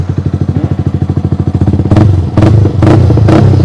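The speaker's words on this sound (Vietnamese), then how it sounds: "Bây giờ cho anh em nghe tiếng bô à. Lên bô SC nè" A Yamaha R15 V3 motorcycle with an SC aftermarket exhaust idles close by with a rapid, even popping pulse, then blips the throttle in several sharp, loud revs.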